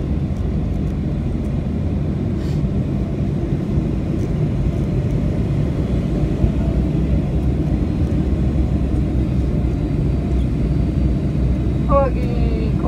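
The cabin of an Icelandair Boeing 757-200 after landing in Iceland fills with a steady low rumbling roar that stays even throughout, with a faint chime-like sound near the end.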